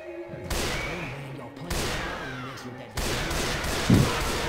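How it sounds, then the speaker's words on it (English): Sniper rifle shots in the zombie shooter Left 4 Dead 2 ring out as several sharp, loud cracks spaced a second or more apart, each with a decaying tail, over game noise and a voice. "I have a sniper rifle. You want me to shoot her?"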